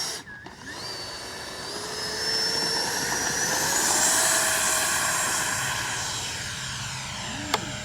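A Freewing F-35 70mm EDF RC jet takes off, its ducted fan spooling up from a low start to a loud, high rushing whine that holds steady before easing, with a sharp click near the end.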